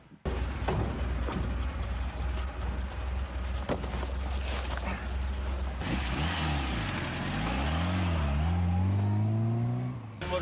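A military medical buggy for evacuating wounded from the front line drives with a loud, steady engine drone, the pitch rising and falling as it accelerates and revs near the end.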